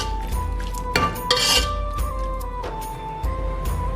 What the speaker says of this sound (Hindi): इसे मिक्स कर देंगे।